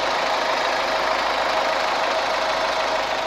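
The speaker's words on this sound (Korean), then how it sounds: "엔진 소리 같은 경우에는 일반 디젤 엔진의 소음 정도다라고 생각을 하시면될 것 같고요." A SsangYong Tivoli Air diesel engine idles steadily, heard up close from in front of the open engine bay, a constant even clatter and hum with no talking.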